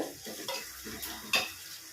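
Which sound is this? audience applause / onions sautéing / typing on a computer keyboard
onions sautéing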